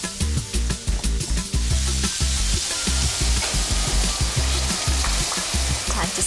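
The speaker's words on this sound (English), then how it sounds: "Now in goes the tomatoes." Tomatoes tipped into a hot pan with red chili, sizzling and frying loudly and continuously with a dense crackle and occasional stirring knocks.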